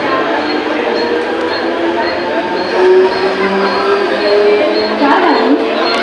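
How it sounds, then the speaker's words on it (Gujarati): A train rumbles past close by at Dombivli station, a loud continuous roar of wheels and carriages with faint clatter throughout. "એ ટ્રેન જાય છે"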